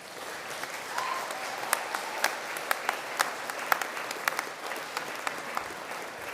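Scattered applause from a moderate audience, individual claps ringing out irregularly at a steady, modest level for several seconds.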